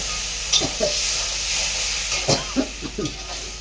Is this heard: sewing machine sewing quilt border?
no